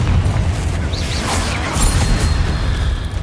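A Confringo blasting spell from Hogwarts Legacy detonates in a tomb, a heavy close rumbling blast with crackling debris and magical whooshes over a low sustained roar.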